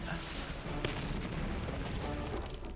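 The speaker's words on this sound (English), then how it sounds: "Use a rocket strike." A rocket strike in the Battle Nations strategy game: a dense, rumbling barrage of booms and blasts that fills the whole stretch, with a sharp impact near the start and a voice faintly underneath.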